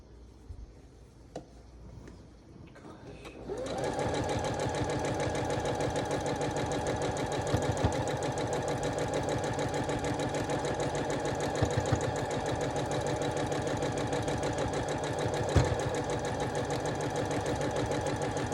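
A sewing machine stitches sashing onto a quilt. It starts after a few quiet seconds of handling, then runs as a steady, close, fast mechanical whirr with rapid needle ticks that continue to the end.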